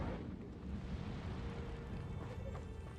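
Fire spell cast in the video game Hogwarts Legacy: a dense, roaring burst of rumbling fire and explosive noise that stays loud and sustained throughout, with no clear pause.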